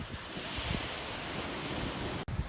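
Ocean surf washing steadily onto a beach on a cool autumn day, a continuous broad roar of breaking waves mixed with wind buffeting the microphone, with no one speaking.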